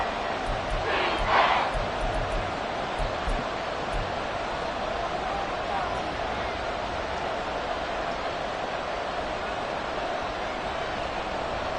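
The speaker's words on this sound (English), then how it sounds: "This crowd doing all they can." Crowd noise from a stadium in an American football video game, a broad continuous roar of cheering fans that holds steady throughout, with a brief louder swell near the start and no talk over it.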